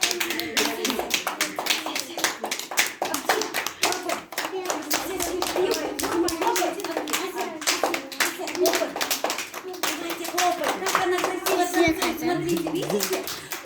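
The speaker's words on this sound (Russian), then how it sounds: "Да, все, хлопаем." Rapid, steady hand clapping from several people, continuing throughout with a voice and other chatter mixed in.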